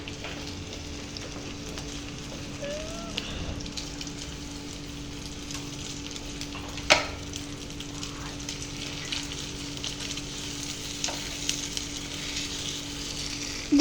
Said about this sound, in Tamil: நல்லா இதை ஃப்ரை பண்ணணும் 5 மினிட்ஸ்.